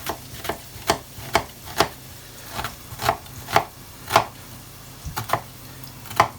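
A knife chops vegetables on a cutting board in about fourteen crisp, close strokes at an uneven, steady pace, with no talking.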